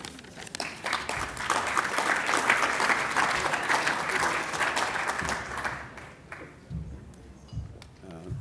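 Sustained round of applause from an awards ceremony crowd, loud and dense for several seconds before thinning into scattered claps and fading, with a voice emerging near the end.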